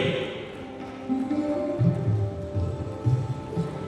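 A crowd at a government inauguration event in Aravalli district, Gujarat, applauds steadily to welcome the chief minister, a dense rain-like patter of clapping that swells slightly midway, with a low tonal hum from the sound system beneath.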